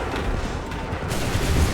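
Massed musket fire in Assassin's Creed III, a continuous rattling fusillade of gunshots that swells louder toward the end over a rumbling battlefield din.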